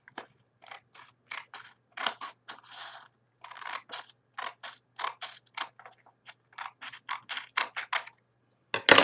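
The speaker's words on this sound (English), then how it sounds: "And of course you're going to cut off this piece." Scissors snipping out a paper piece from a foldable template, a steady series of short, crisp cuts, close and distinct against silence, no talking.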